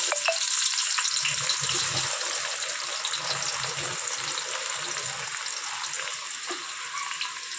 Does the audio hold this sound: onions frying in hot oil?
yes